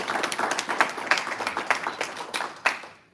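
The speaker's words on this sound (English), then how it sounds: "Could we applaud them, please?" An audience at a congressional subcommittee field hearing applauds veterans in the room. The clapping is steady and moderate, filling the room before fading out near the end.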